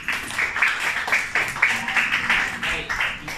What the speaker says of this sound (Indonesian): beri tepukan kepada diri sendiri.